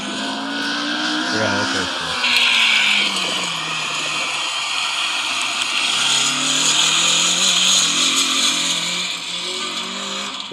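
An 8th-generation car with a K-series engine revs loudly and keeps droning, its high whine staying close and strong, with brief talk at the start.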